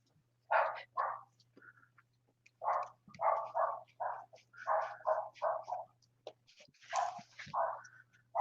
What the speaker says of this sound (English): Hope you guys can't hear my dog having a barking fit.